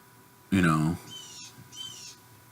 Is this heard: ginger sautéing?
no